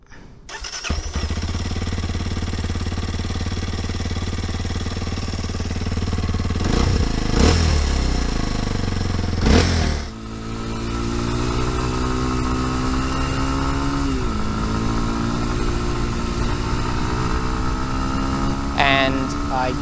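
Kawasaki KLX230SM supermoto motorcycle starts up and then idles with a quiet, even putt-putt and a mechanical hum, interrupted by a couple of brief revs before settling back to a steady close idle.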